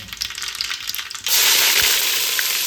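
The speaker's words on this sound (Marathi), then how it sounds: "इकडे मोहरी जिरे तरतरलेलं आहे आता त्याच्यामध्ये आपण हे कांद्याची बारीक केलेली पेस्ट टाकूया" Onion paste hits hot oil tempered with mustard seeds and cumin, setting off a sudden loud, steady sizzle that follows quieter stirring and crackling of the tempering.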